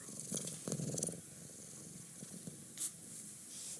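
A cat purrs softly and close, a low continuous rumble broken by a few brief rustling bursts, with no talking.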